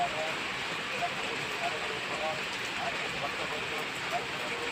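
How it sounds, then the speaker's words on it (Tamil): Heavy rain pours steadily in a village, a continuous broadband hiss of falling water with faint patters, even and unbroken throughout. "இன்னைக்கு நல்லா மழை பெய்யுது"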